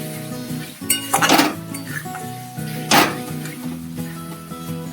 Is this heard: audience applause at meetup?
no